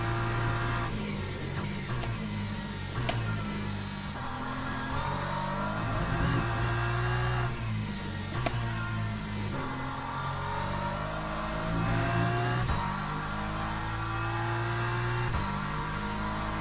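Porsche race car engine in the Le Mans Ultimate racing game, a loud, sustained drone with shifting pitch as the car revs and pushes on, continuous and close, with no talking.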